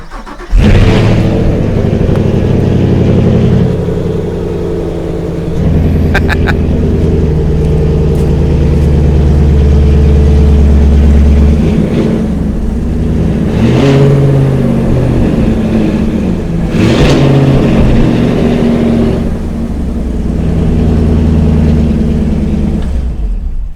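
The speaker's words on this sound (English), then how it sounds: "Do you want to start your car?" A car engine cranks, catches and revs, loud and close. The roar rises and falls in several throttle blips over a steady idle, with no talk.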